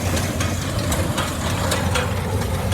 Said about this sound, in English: So we're out baling a field today.